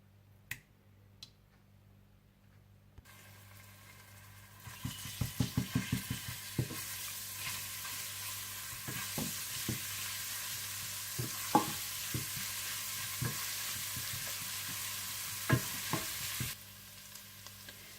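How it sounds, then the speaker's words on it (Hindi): Whole cumin and ginger-garlic paste hit a quarter cup of hot oil for stuffed bitter gourd with minced meat, bursting into a loud close sizzle with sharp crackling pops and spoon clicks that then settles into steady frying. "इसमें आप डाल दें साबुत जीरा और 1 टेबलस्पून अदरक लहसुन डालकर अच्छी तरह से भून लें"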